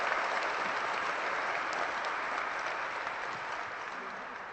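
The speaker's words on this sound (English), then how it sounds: "I think they deserve another round of applause, huh?" An audience at a 2014 graduation ceremony claps in a dense, sustained round of applause that stays steady and fairly loud, then eases slightly toward the end.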